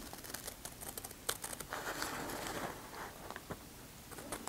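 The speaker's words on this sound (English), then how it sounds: "Then I'm just going to cut these out." Paper being cut out into cartridge pieces with scissors, giving a close, steady stream of crisp crinkling snips and rustles with a few sharper clicks.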